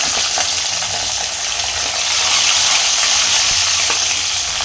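Green chillies fry in hot oil for leftover idli uppittu, giving a dense, continuous close-up sizzle and crackle with faint spoon stirring and no voices.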